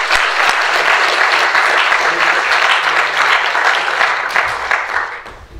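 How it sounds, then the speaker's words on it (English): A large audience gives Peter Tatchell a big round of applause before his lecture on economic democracy, dense clapping close and loud, holding steady and then thinning out toward the end. "So if everyone could give a massive round of applause to Peter Tatchell."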